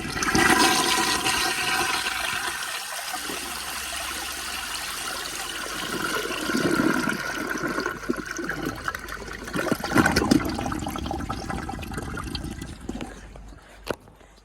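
A 1981 Eljer Emblem toilet on a flushometer flushes with a loud, close rush of water that settles into a steady churning swirl, ending with trickling refill and a sharp click.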